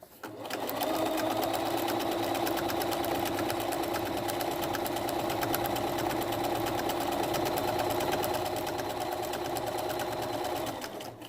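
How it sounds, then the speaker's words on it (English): A Bernina 325 sewing machine runs continuously for several seconds, back stitching along stretch binding on a fabric head sock mask, a steady close mechanical whir with a slight rhythmic knock and no talking. "Actually, I'm going to do a quick back stitch"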